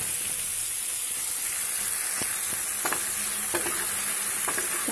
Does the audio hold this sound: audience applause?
no